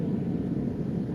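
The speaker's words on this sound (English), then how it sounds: "Never hear a jet going by here. That's the first time. Sound like a military jet." A military jet passes overhead outdoors, heard as a steady, broad low roar that holds at an even level throughout without any speech over it.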